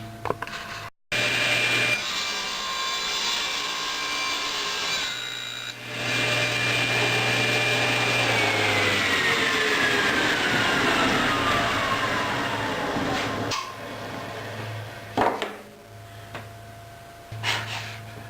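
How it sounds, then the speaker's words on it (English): Power saw cutting bevels into a wooden block for the angled top of a lap podium reading table, a loud steady whining cut running for several seconds with brief pauses, close up and without talk. "now that I've cut my bevels for the angle of the reading table"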